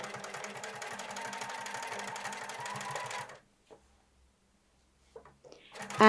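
A sewing machine stitches a jeans waistband in a fast, steady mechanical whir for about three seconds, then stops, leaving near silence and a few faint handling sounds.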